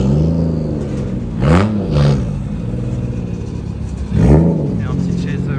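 Toyota Chaser engine at a drift event, low steady rumble with a few brief revving surges rising and falling, one stronger rev near the end, under some nearby talk.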